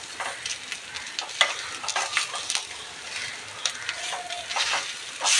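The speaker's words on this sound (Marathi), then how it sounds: "कमी तेलामध्ये हे मासे फ्राय करायचे" Fish coated in semolina with turmeric and salt frying in a little oil, crackling and sizzling steadily with scattered sharp pops and spatters, close and moderately loud, with no talking.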